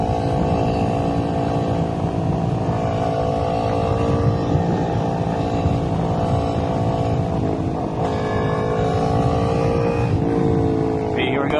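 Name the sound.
motorcycle riding in third gear through twisty roads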